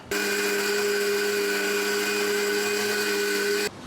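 An electric mixer grinder blends grated coconut with spices into a smooth paste, a loud steady whine with a constant pitch that starts abruptly, holds for several seconds and then cuts off.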